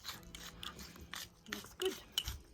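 A pepper grinder turns out a fine grind of seasoning over raw chicken outdoors in the wind, giving soft, dry rasping bursts in short bouts, quiet and close.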